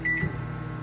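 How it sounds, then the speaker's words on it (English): Microwave oven heating pancit, a short beep at the start followed by a steady low hum running close by, with no voices. "So I'm gonna heat this to the microwave."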